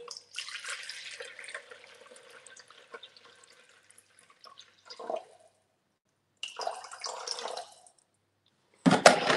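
Water is poured into a bowl for pizza and burger bun dough. Faint splashing and trickling comes in short bursts, separated by quiet gaps, with a louder pour at the end.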